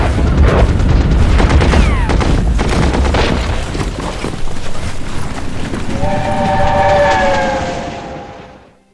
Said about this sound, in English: An armored train.